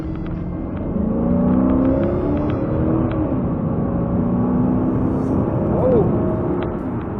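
A 2008 Dodge Charger fitted with a cheap cold air intake pulls away from a stop, its engine rumbling and rising in pitch from inside the cabin, with speech-like sounds partly over the engine.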